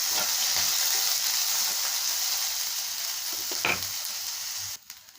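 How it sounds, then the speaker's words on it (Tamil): Onion, green chili and curry leaves stir-fry in a pan for banana flower poriyal, giving a steady close hiss and sizzle. One spatula scrape breaks in near the end, and then the sound cuts off abruptly. "இதை நல்லா பிரட்டி கொடுக்கலாங்க."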